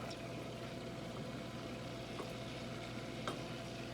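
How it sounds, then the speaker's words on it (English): One stick of butter melting in a saucepan, a steady soft sizzle and gentle bubbling that holds evenly throughout, with a faint clink or two and no talking. "I have melted 1 stick of butter. It is melting in this saucepan."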